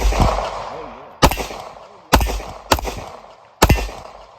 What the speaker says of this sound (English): I was dying to shoot this particular gun out of the guns.